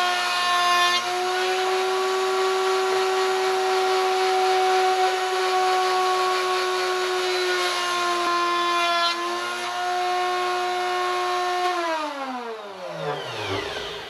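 A router cuts curved wooden boat trim with a loud, steady high whine at close range that holds for about twelve seconds, then winds down as the motor spins to a stop.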